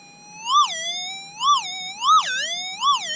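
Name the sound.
metal detector signal tone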